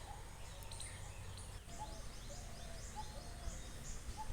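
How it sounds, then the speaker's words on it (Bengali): Common mynas calling near at hand while being fed in a village neighbourhood, a scatter of short chirps and whistled calls over steady outdoor background noise. "শালিকদের খিদে পেয়েছে খুব খিদে পেয়েছে"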